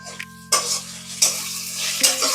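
Onions frying in a pan with a spoonful of sugar added, stirred in bursts: three loud scraping, sizzling swells of the spoon against the pan over a steady hiss and low hum, with no talking.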